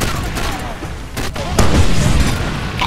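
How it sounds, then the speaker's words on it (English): Grenade explosions in the video game Far Cry 2, with a deep booming blast followed by a rumbling burst of heavy gunfire-like detonations that stays loud to the end. "Just all village explodes. Throw the grenade."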